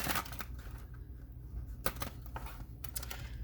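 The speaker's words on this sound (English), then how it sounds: "one more shuffle of the tarot deck" A tarot card deck being shuffled by hand, with several quick riffling bursts separated by short pauses, close and fairly quiet.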